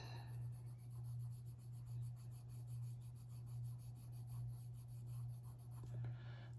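Steady, close rubbing of a colored pencil over drafting film while blending a drawing, a continuous soft scratchy stroke repeating in an even rhythm, with a constant low hum beneath.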